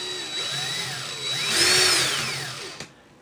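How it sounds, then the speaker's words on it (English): A power drill spins a wire coil build for a vaporizer atomizer, whirring steadily close by, its whine rising and falling in pitch before cutting off abruptly with a click. "I'm going to spin my drill and make sure everything's moving properly"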